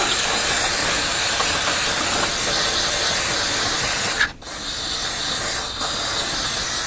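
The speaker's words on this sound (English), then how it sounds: "now let's put some lubricant on all this stuff." Aerosol lubricant sprayed onto jukebox mechanism parts, a steady close hiss running almost nonstop with two brief breaks where the nozzle is released.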